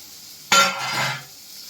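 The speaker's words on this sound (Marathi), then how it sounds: "खोबरं सुद्धा आपण असं ब्राऊन कलर येईपर्यंत आपण छान भाजून घेणार आहोत" Grated coconut drops into a pan of sautéed onion and is stirred, making one close scraping clatter and a short burst of sizzle that fades after about a second.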